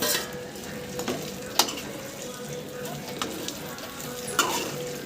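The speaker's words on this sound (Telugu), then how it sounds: "గుమ్మగుమ్మలాడుతున్న కాకరకాయ ఫ్రై" Bitter gourd frying in oil with chilli powder, a steady close sizzle with a few sharp spatula knocks against the pan, no speech.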